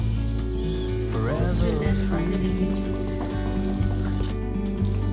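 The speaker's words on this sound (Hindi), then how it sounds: "ये देखिए, मैंने अब इसमें डाल दी, फ्राई हो रहे हैं।" Coated chicken pieces for a zinger burger deep frying in hot oil, a steady loud crackling sizzle that runs continuously throughout with bursts of bubbling, no talk over it.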